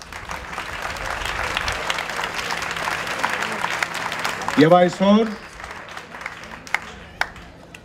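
Dense, sustained audience applause fills a hall for several seconds, then fades as a voice begins speaking over scattered trailing claps.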